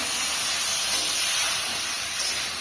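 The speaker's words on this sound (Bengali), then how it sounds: "এই যে গোশটা এই যে গরম করে নিচ্ছি" Cooked meat reheating in a pan in a Bangladeshi village kitchen, giving off a steady, close, bright sizzling hiss that holds evenly throughout with no talking.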